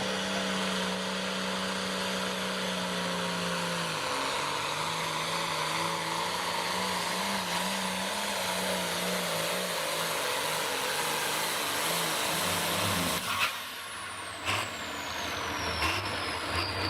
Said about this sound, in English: That tractor sounds good.